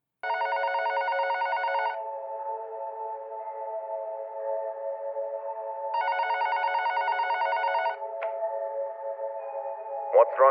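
A telephone rings at the start of a call in two bursts of rapid electronic trills, each about two seconds long, separated by a steady ringback tone, followed by a few brief clicks at the end.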